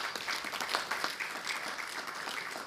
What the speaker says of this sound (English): So I wanted to give Greg Sattler and Dave Tender a round of applause for their service.